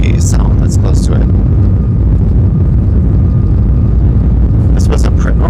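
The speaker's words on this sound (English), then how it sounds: "sometimes when I record during takeoff or landing, the engine noise drowns out the mic" Steady, loud broadband roar of an Alaska Airlines jet's engines during the takeoff run, heard from inside the cabin, continuous throughout with brief higher-pitched bursts near the start and end.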